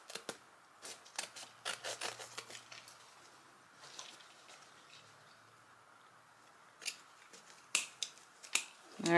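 Scissors snipping through the seams of a pillow to cut it apart, a series of short, faint, irregular clicks and rustles close by, with a quieter pause midway before a few sharper snips at the end.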